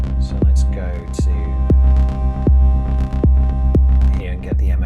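An ALM Busy Circuits MCO oscillator patched in VCV Rack drones with a sustained, buzzy synth tone that swells and fades, punctuated by regular pulsing clicks, loud and steady throughout.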